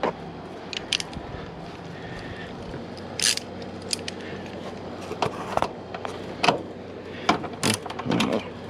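A ratchet fitted with a bit socket works the valve cover bolts on a 2008 BMW 328xi, giving sparse, quiet clicks and short metallic rattles in irregular bursts against a faint background hum, with no speech.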